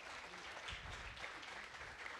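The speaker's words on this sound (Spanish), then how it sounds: "dale un aplauso al Señor" A church congregation applauds during a sermon, with steady, fairly faint, distant clapping that lasts the whole moment without a clear break.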